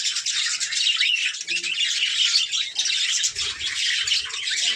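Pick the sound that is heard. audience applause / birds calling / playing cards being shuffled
birds calling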